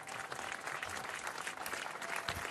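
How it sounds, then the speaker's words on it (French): A crowd applauding the unveiling of a Johnny Hallyday statue on an outdoor esplanade, dense distant clapping that stays steady and fairly faint for the whole stretch. "Sous les applaudissements de la foule"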